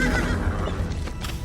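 In a video game, a horse neighs loudly and close by, a short whinny lasting under two seconds with faint hoof-like sounds around it.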